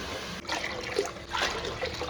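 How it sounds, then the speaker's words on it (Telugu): Water poured into a pot of fried ginger-garlic paste and mint for mutton dum biryani, a steady close splashing trickle that runs throughout with slight surges. "వాటర్ పోసుకుందాము."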